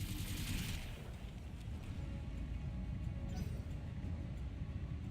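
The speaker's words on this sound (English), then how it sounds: "Firing a full salvo." A Battletech mech fires a full salvo, a continuous low rumbling barrage of weapon fire that rolls on steadily and loudly throughout.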